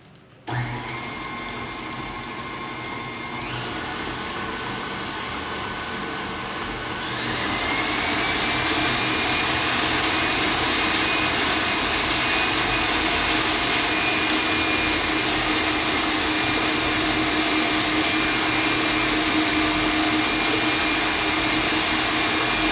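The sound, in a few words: electric stand mixer beating blue velvet cookie dough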